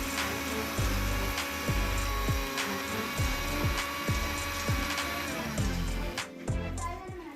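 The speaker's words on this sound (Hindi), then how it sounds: "ज़ीरे और धनिए की भुनने की खुशबू आने लगी है, लिहाजा हम इसे ग्राइंडर में डाल के ग्राइंड कर लेंगे।" An electric spice grinder whirring as it grinds roasted cumin and coriander seeds, a loud steady motor drone with rhythmic pulsing and rattling seeds throughout, cutting off near the end.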